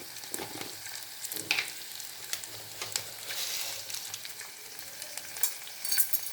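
Tempering spices and curry leaves sizzle and fry steadily in hot oil in a pan while cooking a horse gram dish. The crackle is close and continuous, with occasional sharper pops.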